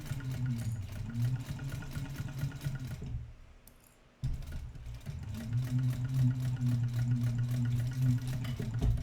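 A sewing machine stitches a seam on a bag project in steady, rapid bursts, pausing briefly partway through before running again at a constant close-up hum.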